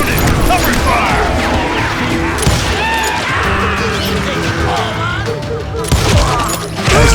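Dense, continuous video-game shootout in a Western outlaw setting, with overlapping gunfire, crashes and impacts running throughout under shouted voices.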